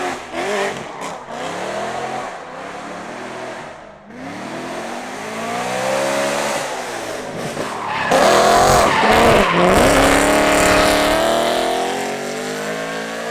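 Stock BMW E92 M3 drifting up a mountain road, its tires squealing loudly and continuously over a straining, revving engine that surges louder in the second half, close by.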